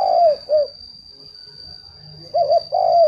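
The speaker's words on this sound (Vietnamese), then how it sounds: "Đây là những con chim cu khách rất là thuần" Tame cu khách doves (spotted doves) coo in two bursts of soft, rounded notes, near and clear, separated by a quiet pause with a steady high hum in the background.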